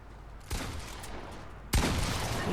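Gunfire in the Fortnite video game, two separate loud bursts of shots about a second apart, each with a crackling tail, close and with no talk over them.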